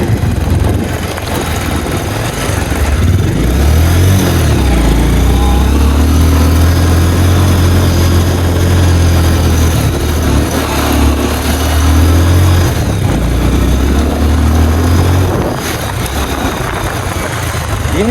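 A motorcycle riding along a dusty road in Nepal, its engine droning steadily up close with a low hum that rises and dips as the throttle shifts, with no clear talking.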